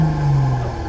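Sport Plus mode sets a car's exhaust to a steady low drone held close and fairly loud, easing off slightly toward the end, with no talking.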